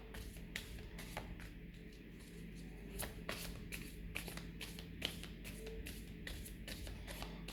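A tarot card deck is shuffled by hand in a quiet room, soft, faint riffling and tapping in a steady, repeated rhythm.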